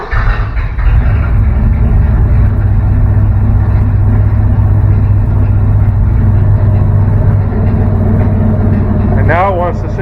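A 1957 Chevy custom flatbed with a hacked-up wiring job sits at a steady, loud idle, its low engine drone running continuously throughout, with a brief rising mechanical whine near the end.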